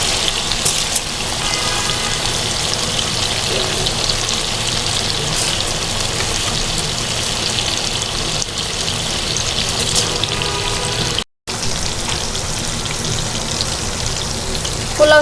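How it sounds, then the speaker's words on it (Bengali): Polao rice poured into a hot cooking pot for bhuna khichuri, giving a continuous loud sizzling, rain-like hiss that runs steadily throughout with one brief gap near the end, and no talking. "তো এখন দিয়ে দেব আমি পোলাওর চালটা।"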